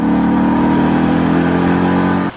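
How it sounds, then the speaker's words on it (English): A loud 2011 Ford Mustang GT V8 engine revs steadily with a deep, throaty rumble, holding high and continuous before cutting off abruptly at the end. "We just love this engine."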